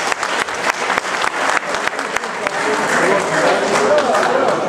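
Audience at a live concert breaks into applause, a dense, close burst of many hands clapping that swells and holds steady throughout.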